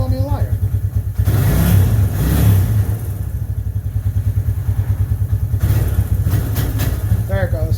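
A 1996 Suzuki Quad Runner 250 engine running rough nearby, a pulsing chug that rises in two brief revs and sags back, with a person talking over it.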